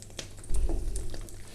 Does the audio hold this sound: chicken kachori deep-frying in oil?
yes